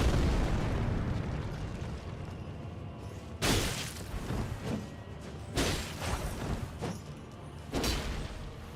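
Explosions in Elden Ring: three heavy booming blasts land a couple of seconds apart over a constant low rumble of game ambience, each bursting loud and then decaying.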